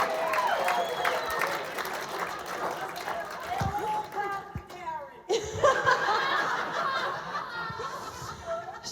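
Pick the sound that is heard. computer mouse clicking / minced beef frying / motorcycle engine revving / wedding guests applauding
wedding guests applauding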